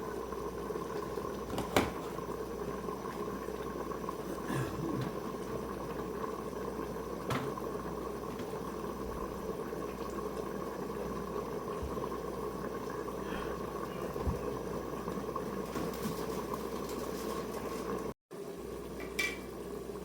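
A covered pot of fish and seasoning boils steadily for a Jamaican coconut dumplings and fish dish, with a continuous bubbling simmer and occasional light clinks, alone without talk.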